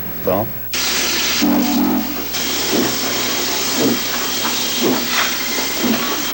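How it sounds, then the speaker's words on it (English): A steam locomotive's air pump working on the Crab Orchard & Egyptian railroad, a steady broadband hiss of steam with rhythmic thumping pulses beneath it, fairly loud and close, with a voice briefly over it. "either the air pump's working, which sound just like they're breathing"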